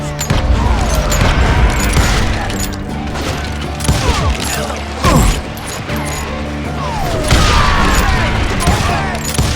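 A Wild West shootout against hired guns in Call of Juarez Gunslinger: a chaotic, loud burst of gunfire mixed with crashes and thuds, with sharp impacts scattered through continuous background clatter.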